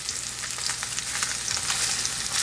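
Salmon fillets pan-searing in a frying pan: a dense, even crackling sizzle, close and continuous, with no talk over it.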